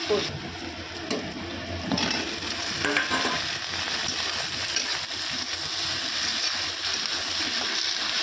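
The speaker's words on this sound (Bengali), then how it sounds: "পেঁয়াজটা রসুনটা ভাজা হয়ে গেলে দই চিকেনটা দিয়ে দেবো, দিয়ে জল বেরোবে, তারপর ওটা ফুল কষানো হবে।" Onion, garlic and yogurt-marinated chicken frying in a pan, a near sizzle with stirring scrapes and some watery bubbling, with faint voices now and then in the background.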